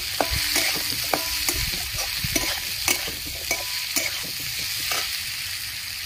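Kachki fish with turmeric and salt sizzles steadily in a pan while a spoon scrapes and stirs in a regular rhythm, clear and close, with no one speaking.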